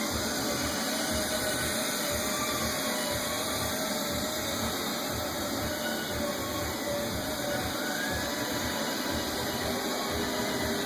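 A Neato robot vacuum cleaner runs with a continuous whirring motor hum and a steady airy rush, close and unbroken throughout.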